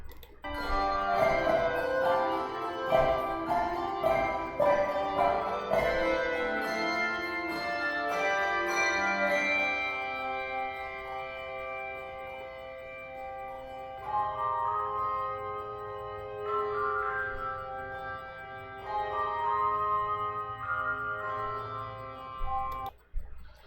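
Bright handbells and chimes ring out a slow melody with sustained, overlapping tones, fuller and busier at first, then thinning to sparser notes.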